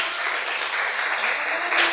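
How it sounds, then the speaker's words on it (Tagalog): Church worshippers clap louder for God, a thick, sustained roar of applause from a large congregation that holds steady and swells slightly at the end. "Lakasan natin ang palakpak."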